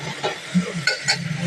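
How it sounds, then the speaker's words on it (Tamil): Vegetables are stir-fried in a pan with onion, tomato, mint and curry leaves, with short scraping stirs and light sizzling heard close up in a brief burst. "போட்டு நல்லா வதக்கி போட்டுக்கலாம்."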